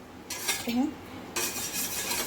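Thickening chocolate cream heating in a pan is stirred with a utensil, giving two bursts of close scraping and clinking against the metal, separated by a brief lull.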